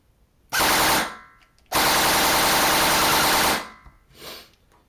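An E&L AK105 airsoft gearbox on a 7.4-volt LiPo fires in full-auto bursts, a loud, close, rapid buzzing rattle: a short burst, a longer sustained one, then a brief faint one.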